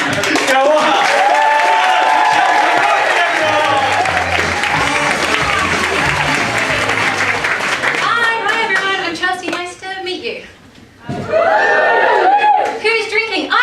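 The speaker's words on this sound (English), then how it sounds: "you're going to start a massive round of applause for Chelsea" A room full of people breaks into loud, sustained applause for Chelsea, with dense clapping, cheers and chatter. The clapping thins and briefly dips to near quiet before a second burst swells back up.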